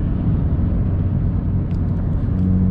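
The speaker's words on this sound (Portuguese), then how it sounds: "Ó, dei pé, tá vendo, galera? Tipo, é um ronco gostoso, velho." Deep, loud exhaust rumble from a car with a sport exhaust as it accelerates in traffic, heard from inside the cabin, a thick low drone that rises slightly in pitch toward the end.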